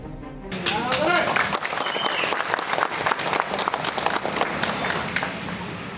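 Supporters in Sinnar burst into loud applause and cheering while watching their MP's swearing-in on a public screen; a dense crowd roar of clapping and shouts swells quickly and holds throughout, close and full.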